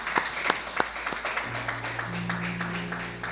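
A church congregation claps during a Spanish-language service, a few sharp claps at first merging into steady applause, while sustained organ or keyboard tones enter underneath partway through.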